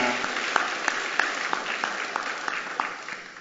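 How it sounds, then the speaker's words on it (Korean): A church congregation claps together during a Sunday morning worship service, a steady run of sharp, evenly spaced claps filling the room without talk. "그렇게 하신 우리 하나님께 박수로 감사하겠습니다."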